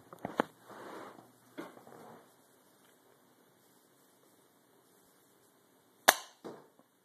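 A homemade Nerf-style dart gun built from a modified injection pen fires a dart: a few sharp snaps and clicks near the start, then quiet, then a loud crisp pop with a short rattle afterward.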